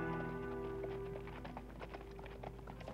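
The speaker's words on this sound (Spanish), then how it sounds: "Son caballos, estoy segura. Ese sonido es inconfundible." Several horses approach in an animated adventure series, their hooves clip-clopping in a quick, uneven patter that grows steadily through the moment, with no talking over it.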